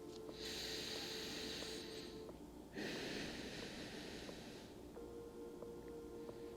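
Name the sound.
deep breathing during yoga child's pose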